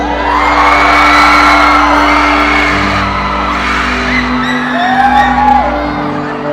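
A large crowd shouts and whoops together, a loud sustained roar of voices with cheering rising and falling throughout.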